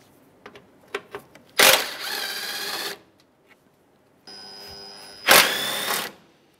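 Bolt removal from the bumper and grille of a 2007-2013 Acura MDX, two loud bursts of a power tool whirring at close range, with a few sharp clicks and handling knocks in between.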